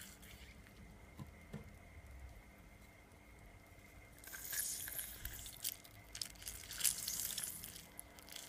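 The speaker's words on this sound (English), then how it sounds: "I'm squeezing my lemon in my strainer. And my lime also." Lemon and lime are squeezed through a strainer, giving faint wet squishing and dripping that swells into louder juicy spatters in the second half.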